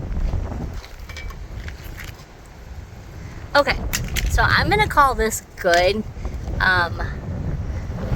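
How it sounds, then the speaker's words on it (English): Strong wind buffets the microphone outdoors beside an RV, a low, uneven rumble that runs under someone talking throughout. "it is very, very, very windy"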